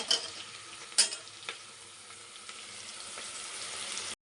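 Onions frying in a pan for egg biryani, a faint steady sizzle with a few sharp clinks of a spoon early on and occasional soft stirring scrapes, then an abrupt cut to silence.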